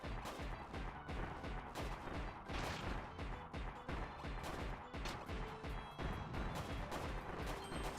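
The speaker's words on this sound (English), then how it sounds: "Suddenly guns. Or cannon." Quiet video-game gunfire or cannon fire sounds as a dense run of rapid overlapping bangs and crashes, continuous and busy throughout, with no talking.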